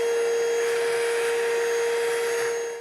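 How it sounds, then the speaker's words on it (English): A vacuum cleaner drones steadily with a high-pitched motor whine, loud and close, then begins to fade at the very end. "Definitely need the vacuum again."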